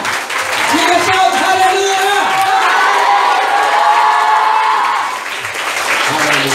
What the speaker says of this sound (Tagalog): Malakas na palakpak sa Diyos.